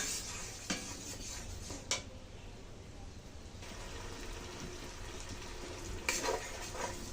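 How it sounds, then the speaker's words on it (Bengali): Spices stirred and fried in oil in a pan for a vegetarian dish, giving a steady soft sizzle with occasional spoon or utensil scrapes against the pan, close and moderately quiet with no talk. "সুন্দর করে কিন্তু মশলা কষিয়ে নিলাম"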